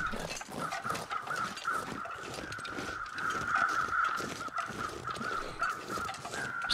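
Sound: crows cawing in the video game The Long Dark

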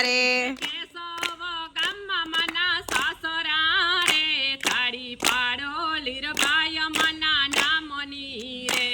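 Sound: women clapping hands along with a devotional kirtan

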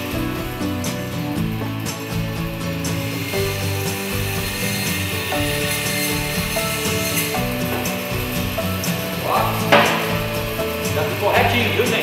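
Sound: saw cutting through beef marrow bone

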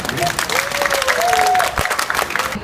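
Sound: audience applause

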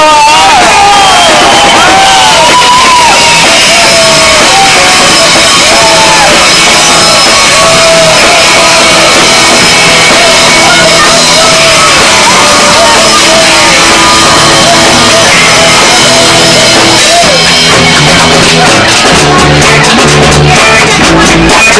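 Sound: crowd cheering for guitarist Nigel Bull at a gig

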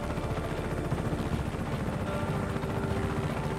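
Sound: helicopter in video game Just Cause 3

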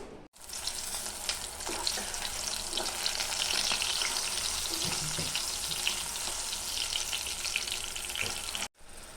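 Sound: green chillies frying in oil in a pan

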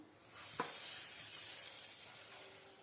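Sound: roasted vermicelli added and stirred into milk pudding

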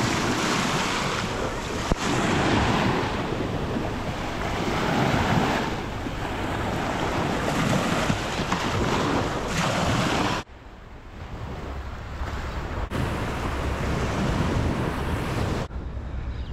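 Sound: sea waves at a Mariupol beach

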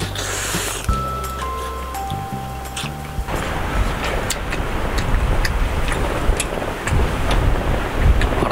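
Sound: strong wind at campsite

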